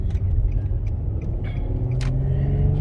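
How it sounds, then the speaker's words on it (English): A 2006 Infiniti in TipTronic manual mode drives along, its steady engine rumble and road noise close and continuous, with small bumps where it shifts up through second and third gear. "Now I can go second and the third, just bump off a little bit, and it shifts."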